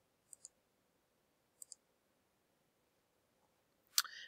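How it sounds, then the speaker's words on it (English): Computer mouse clicks come in two quick double-click pairs, crisp and close in a quiet room, followed by a louder, brief clatter near the end. "Click the Type tool and then click anywhere on the artboard."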